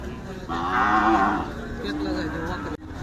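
Bulls at the Pandharpur Kartiki fair, kept for natural breeding, give a loud, drawn-out moo lasting about a second, followed by lower lowing and crowd noise from the fairground.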